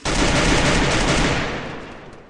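A dense burst of rapid gunfire from the mobile battle-royale game Free Fire during a tournament match, loud and continuous for about two seconds before tailing off, with no voices over it.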